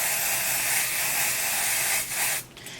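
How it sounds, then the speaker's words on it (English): An Ebin lace tint aerosol can in light warm brown gives a steady, loud hissing spray at close range for about two seconds, breaks off briefly, and then fades away. "So I spray the lighter shade first."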